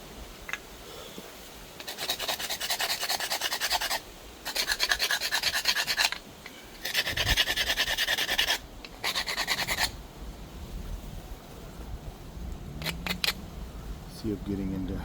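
Antler tip pressure flaking obsidian, the wet antler gone soft in humidity: several close bursts of gritty scraping and rasping, each lasting a second or two and separated by short pauses, over a faint background.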